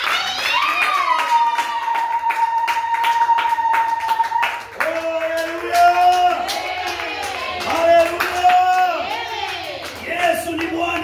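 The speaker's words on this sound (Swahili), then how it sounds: "Pigia Yesu makofi." Church congregation clapping hands in steady, continuous rhythm, the claps loud and close, with sustained voices singing or calling over them throughout.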